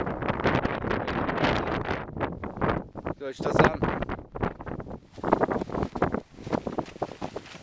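Storm wind gusts buffet and rattle a staked tent, a loud steady roar of flapping fabric and wind noise with someone talking over it throughout.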